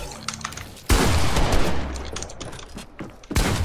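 Pump shotgun blasts in the video game Fortnite come as two sharp, loud bursts about two and a half seconds apart, with clattering game noise and keyboard clicks between them.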